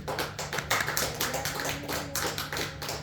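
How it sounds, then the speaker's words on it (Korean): Church congregation clapping in blessing for the elders, a steady dense patter of many hands close by with no voices over it, held throughout with a low hum underneath. "축복의 박수 한번 해드리시죠"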